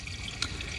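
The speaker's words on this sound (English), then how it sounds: "if you listen and you put the snake down, you can almost hear the water gushing" Water rushing through a drain pipe while a toilet is cleared with a drain snake, a steady low wash with faint drips, one brief splash near the middle.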